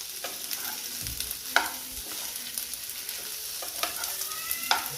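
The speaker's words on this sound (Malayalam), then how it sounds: "നല്ലെണ്ണം ഇളക്കി യോജിപ്പിച്ചിട്ട് കൊടുക്കുക" Food stirred in a frying pan with gingelly oil, a soft steady sizzle broken by several scraping stir strokes at irregular intervals, fairly faint and close, with no talk.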